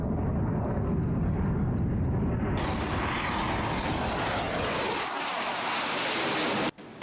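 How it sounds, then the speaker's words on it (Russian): A Su-25UTG jet flies aerobatic manoeuvres over an aerial combat zone at a naval air show in Yeysk, giving a loud, steady broadband roar that dominates throughout and shifts in tone as the aircraft passes. "И вот зону воздушного боя занимает самолет Су-25 УТГ."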